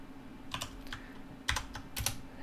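Code is typed on a computer keyboard in a few quiet clusters of clicking keystrokes. Some taps come close together, with short pauses between them, over a low, steady room hum.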